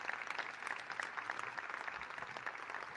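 Applause in the Oval Office, a fairly faint but steady round of clapping from a small group, with individual claps audible throughout.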